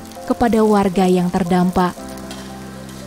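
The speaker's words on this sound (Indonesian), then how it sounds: "para remaja ini turun langsung untuk memasak nasi goreng yang akan mereka bagi" Fried rice sizzles and is stirred in a pan at a vegetarian food stall in Medan, a steady frying hiss running under a person talking and continuing alone once the voice stops.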